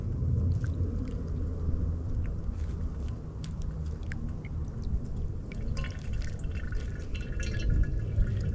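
Water drips as it filters slowly through a shirt into a 32-ounce canteen in the wilderness; sparse, faint drops tick irregularly over a low steady rumble.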